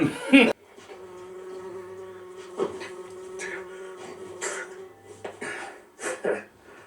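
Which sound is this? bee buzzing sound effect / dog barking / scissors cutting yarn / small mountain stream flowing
bee buzzing sound effect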